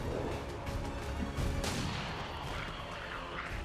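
Gunfire in the turn-based tactics game XCOM 2: War of the Chosen, a sustained burst of loud, dense shots with a sharper crack near the middle and a booming low rumble underneath, no talking.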